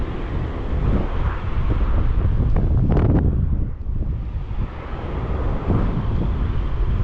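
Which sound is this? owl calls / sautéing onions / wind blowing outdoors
wind blowing outdoors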